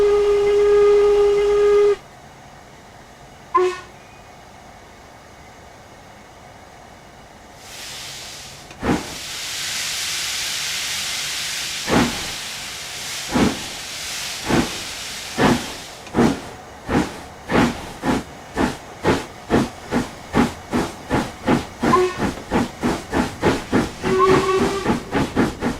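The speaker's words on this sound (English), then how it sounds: "As the train departed out the station" A steam train departing a station on the Riviera line: a short whistle blast, then a long hiss of escaping steam, followed by steady chuffs that grow quicker and more regular as it pulls away.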